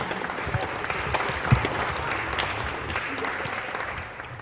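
Steady applause fills a school board meeting as student athletes and staff are welcomed up for fall sports recognition, a continuous even wash of clapping from a moderate crowd at medium distance.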